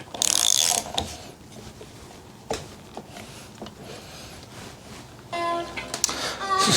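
A ratchet wrench turns a bolt on a Garelli SSXL engine case, giving short bursts of rapid clicking between quieter pauses, with a voice speaking briefly between the mechanical sounds.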